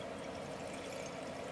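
Yellow acid solution, made from cheap hardware-store acids for refining gold, is poured out of a container in a steady, continuous rushing stream with no talking.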